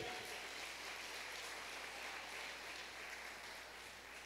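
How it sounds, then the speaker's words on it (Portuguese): A church congregation applauding steadily, a dense, even wash of clapping from many hands filling the room at moderate loudness with no pauses. "Você pode aplaudir Ele bem forte."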